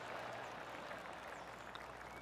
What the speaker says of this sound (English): The crowd is getting crazy right now.